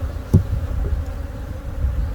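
Honey bees buzz steadily around hive frames carrying pollen patches, nectar and pollen, a close continuous drone with a brief bump near the start and no talk.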